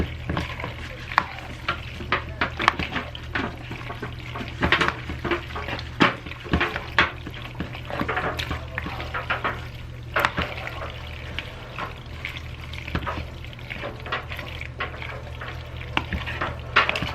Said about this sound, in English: I'm going to go ahead and mix that up and get that all